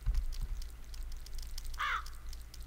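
A single crow caws once, faint and somewhat distant, in the video game Jagged Alliance 2, set over quiet ambient game noise with occasional soft clicks.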